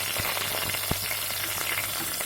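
Onion pieces and green chillies fry in hot oil for a spicy mutton curry, giving a dense, steady, close sizzle with a few faint crackles and no talking.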